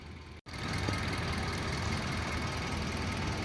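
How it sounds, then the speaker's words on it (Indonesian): A manual Toyota Rush TRD engine idles with a steady, even drone heard close and alone, broken only by a brief dropout near the start. "Irama mesinnya juga standar ya, belum ada bunyi yang macam-macam"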